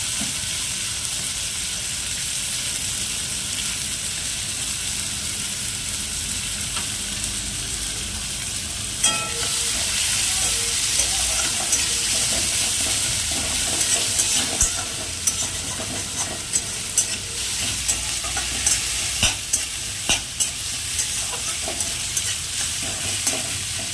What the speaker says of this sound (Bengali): এবার কড়ার মধ্যে আমি দেবো পেঁয়াজ, রাখা পেঁয়াজগুলো হালকা লাল করে ভেজে নেব